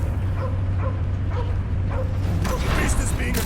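A dog barks several times in the Guardians of the Galaxy video game, sharp evenly spaced yelps over a low rumbling backdrop, followed by a burst of louder game effects.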